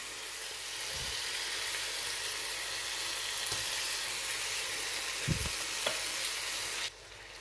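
Spinach and cream cheese frying together in a pan for a gratin potato roll, giving a steady, close sizzle throughout with a few soft stirring knocks, no voices.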